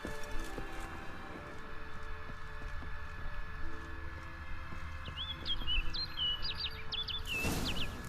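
A bird calling in the video game The Witcher 3, a rapid series of bright chirping notes toward the end, heard over steady ambient game sound and soft footsteps.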